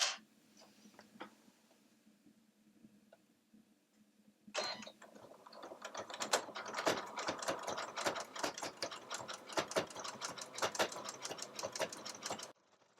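Sewing machine stitching through thick layers of fabric while sewing a zipper bag, starting with a few sparse clicks, then a loud, fast, continuous mechanical run of dense ticking stitches from about the midpoint to the end.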